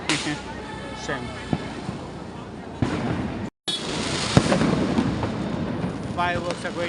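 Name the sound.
fireworks going off at a building during Diwali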